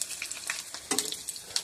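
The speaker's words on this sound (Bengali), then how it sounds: "ওরা ভালো করে ওই দিকটাও লাল লাল করে ভাজা হোক।" Fish roe fritters shallow-frying in hot oil in a pan, giving a close, steady sizzle with crackly spits and a few louder pops, with no talking.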